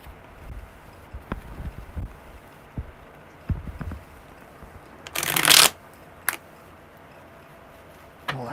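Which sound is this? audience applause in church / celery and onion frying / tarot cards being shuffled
tarot cards being shuffled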